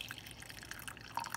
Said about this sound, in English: let's pour our mulberry tea in the